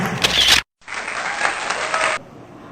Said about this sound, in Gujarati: જોરદાર તાળીઓથી વધાવો તેમને.